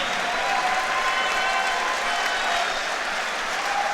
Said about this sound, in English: how about a huge round of applause for our warrior from Mexico and our warrior from